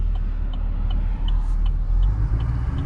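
Chevrolet Camaro with an LT1 engine and a popcorn burble tune, heard from inside while driving: a deep, loud, continuous low rumble with a steady engine drone and no voices.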